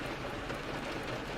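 Steady rain falls in an even, dense patter, a continuous close hiss with no breaks and no voices over the short stretch.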